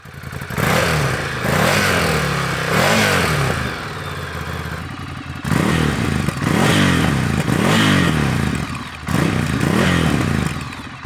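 A Ducati Scrambler motorcycle with twin exhaust revving in repeated loud bursts, deep throaty exhaust rising and falling between throttle blips, close by.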